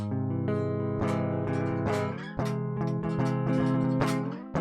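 A strummed guitar chord rings out, struck repeatedly in several bright strums with sustained tones between them, no talking.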